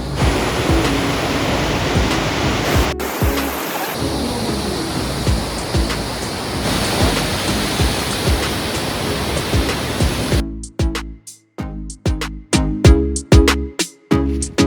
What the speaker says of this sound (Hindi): ये देखिए यहाँ का वाटरफॉल, कितना खूबसूरत वाटरफॉल है